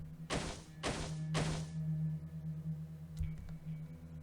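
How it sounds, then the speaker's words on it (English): Three heavy, evenly spaced thumps from a video game sound effect set in a storehouse, landing close and loud over a low hum, followed by a faint knock. "Multiple thumps."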